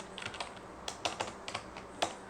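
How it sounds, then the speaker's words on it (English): Rapid keystrokes on a computer keyboard, irregular clicky taps with a few sharper presses, close and clear over a faint room hum. "Let's type in."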